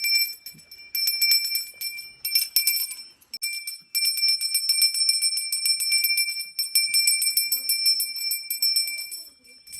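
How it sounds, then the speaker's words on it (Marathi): A small hand bell rings continuously in fast, bright, metallic strokes during a Ganpati aarti at a Konkan home celebration, close and loud, with brief pauses between bursts. "घंटी आपला काम बरोबर निभवला स्टार्ट टू एंड"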